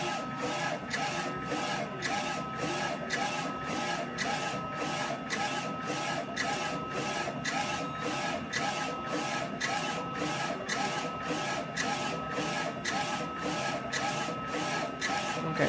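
A DTF printer runs through a print job, giving a steady mechanical whir with a rapid, regular rhythmic pulsing that repeats throughout, close and continuous with no talking.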